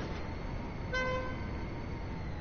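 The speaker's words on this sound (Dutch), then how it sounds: "Ja, dat is een toeter." A short car horn toot in the GTA video game sounds briefly at moderate distance over a steady bed of engine and game noise.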